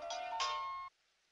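A phone ringtone plays a short electronic melody of bright sustained tones, fairly loud and close, then cuts off abruptly into silence, in an indoor domestic scene from a Vietnamese drama.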